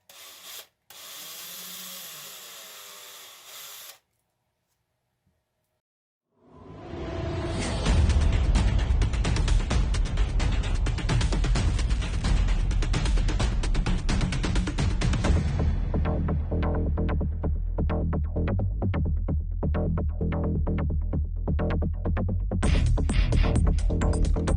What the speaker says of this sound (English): I'm going to open up these holes a little bit more to allow for a somewhat looser fit for the